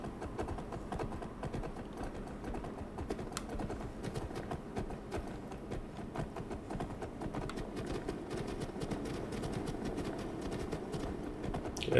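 Horse hooves clip-clop steadily in a fast, even rhythm while riding across terrain in the video game Skyrim, a continuous close patter with faint ambient background and no talking.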